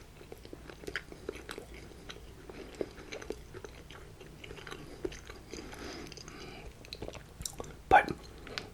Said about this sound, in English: I still have the potato here